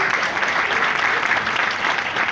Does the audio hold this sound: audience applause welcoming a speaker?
yes